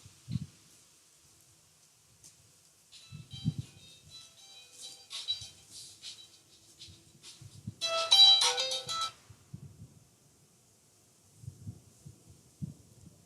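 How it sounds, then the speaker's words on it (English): A mobile phone rings in a quiet room with a brief tonal chime, then a louder burst of ringtone, set among soft low thumps and faint handling noises. "Just hold a minute, my phone is ringing, I need to get rid of it."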